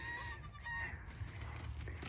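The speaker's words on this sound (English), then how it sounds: "we had to move the baby goat to the garden space" A baby goat in a farm garden space bleating in a thin, wavering cry, near and fairly loud against a low background hum.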